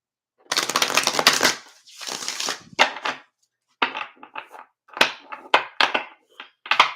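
A deck of cards is shuffled by hand in several close bursts: a long riffle, then shorter clustered flutters and snaps separated by brief silences.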